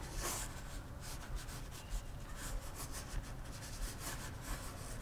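Steady scratchy rubbing of a colored pencil on paper, close and continuous, with light rhythmic strokes.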